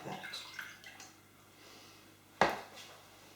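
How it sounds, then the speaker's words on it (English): Juice from tinned fruit is poured off into a jug while making a summer trifle, giving a faint, quiet trickle with a brief louder splash near the end. "so I'm just going to very carefully drain off the liquid. Into this jug,"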